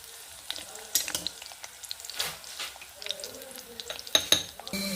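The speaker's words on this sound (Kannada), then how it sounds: "ಇಂಚೂರು ಸಾಸಿವೆ ಹಾಕೊಂಡೆ ಏಳೆಂಟು ಬೆಳ್ಳುಳ್ಳಿ ಜಜ್ಜಿದ ಹಾಯ್ಕೊತ ಇದ್ದೆ" Mustard seeds and crushed garlic frying in a pan for tomato chutney, a steady close sizzle with scattered pops and spits, plus a few stirring and utensil clicks, with no talk.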